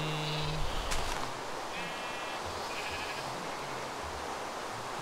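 Minecraft sheep bleating in a game, a short harmonic bleat near the start and a couple of fainter bleats later over a steady background hiss.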